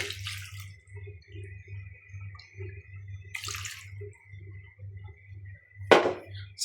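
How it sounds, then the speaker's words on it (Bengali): Spice-washing water poured into a pot of beef curry in a few separate splashing bursts, the last the loudest, over a steady low rhythmic hum. "মশলা ধোয়া পানিটাও দিয়ে দেব।"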